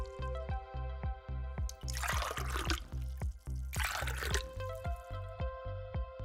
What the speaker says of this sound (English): Once the solutions are ready, pour them in to immerse the potato strips.